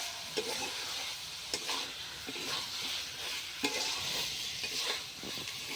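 Chicken curry masala with garlic frying in a pan, a soft steady sizzle with regular spoon scrapes and stirring knocks every second or so, fairly quiet and with no voices.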